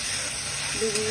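Poppy seed paste sizzles in a hot pan while being stirred for an aubergine and poppy seed dish, a steady close hiss with a brief scrape near the end.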